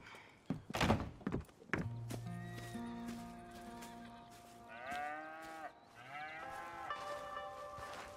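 Animals on a ranch in the video game Red Dead Redemption 2 call out: drawn-out lowing and whinny-like moans rise and fall over several seconds. Hollow knocks and thuds come first, with no speech.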